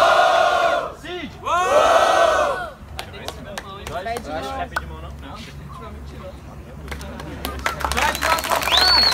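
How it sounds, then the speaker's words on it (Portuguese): A crowd at a rap battle cheers and shouts in loud bursts, with chanting and scattered clapping, followed by lively chatter and whoops as people talk over the noise. "Quem achou que deve passar de fase é a minha direita, MC Cid, barulho meu pra cima"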